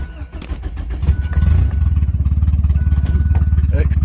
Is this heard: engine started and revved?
yes